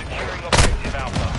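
A shotgun fired in a video game: one sharp, loud blast cutting through a busy mix of game noise and talk.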